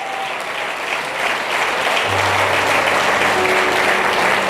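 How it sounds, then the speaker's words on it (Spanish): Church congregation at a Spanish sermon applauding the Lord, a broad, steady clapping that swells slightly after the first second and stays full, with a low organ-like tone entering midway. "Un aplauso para el Señor por ello"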